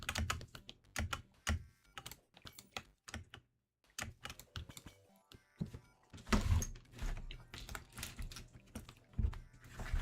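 Rapid clattering keystrokes on a computer keyboard, close and crisp, coming in irregular bursts with brief pauses, while playing Terraria.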